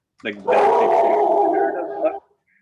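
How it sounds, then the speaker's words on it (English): A pet dog at home lets out one long, loud, drawn-out bark or howl right near the microphone, lasting nearly two seconds before cutting off into silence. "That was my dog."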